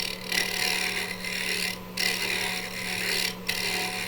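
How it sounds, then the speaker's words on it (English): A bowl gouge making a pull cut on a wood lathe, giving a steady close scraping rasp with a constant motor hum, broken by two brief pauses as the tool lifts off. "So I'm just going to use my bowl gouge here,"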